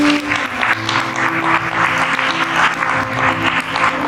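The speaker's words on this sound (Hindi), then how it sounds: "कलीसिया जोर से परमेश्वर यीशु मसीह के लिए ताली बजाए।" A church congregation clapping loudly together in worship, a dense, sustained wash of many hands with steady rhythm filling the room.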